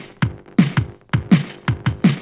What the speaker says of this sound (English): It's basically emulating an old Soviet tape recorder.